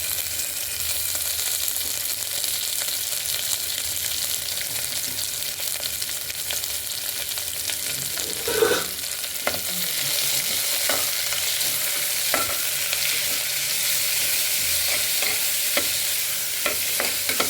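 Onions and green chillies fry in a pan for a roadside-style kurma, with a steady close sizzle throughout and occasional scraping stirs of a spatula.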